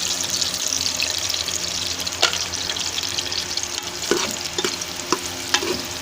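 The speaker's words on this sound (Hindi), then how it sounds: "हम थोड़ा सा प्याज को ब्राउन कर लेंगे।" Onions hiss and sizzle steadily as they brown in a pan for a green bean dish, with a spoon scraping and clinking against the pan several times as they are stirred.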